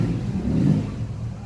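A refrigerator compressor motor runs during an R600 gas charge, giving a close, steady low hum with slight swells.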